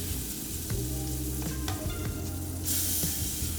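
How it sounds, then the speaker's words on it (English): Butter melts and sizzles in a skillet or pot, a steady close hiss with small crackles and a few faint clicks, brightening into a sharper hiss toward the end. "melt 3 tablespoons of butter in a separate skillet or pot"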